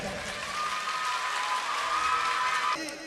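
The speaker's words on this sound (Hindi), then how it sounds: "आपकी तालियां बताएंगी कि फर्स्ट, सेकंड और थर्ड कौन है" Audience applause from a crowd at a student speech competition marking an Independence Day celebration, a steady dense clapping that holds for about three seconds and then drops off sharply.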